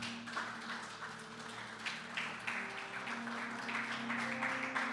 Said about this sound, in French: Acclamons royalement le Seigneur.